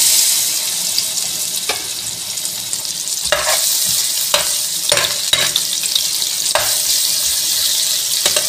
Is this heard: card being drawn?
no